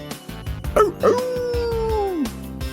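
A dog bark sounding in a root beer commercial: a couple of short yips followed by a long, drawn-out howl that slides down in pitch, loud and close, with music underneath.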